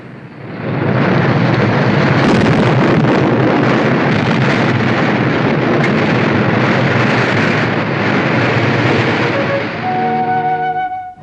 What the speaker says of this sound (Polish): Użyto środków wybuchowych.